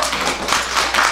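An audience claps steadily throughout, a dense, fairly loud patter of many hands with a few stronger swells and no clear pauses.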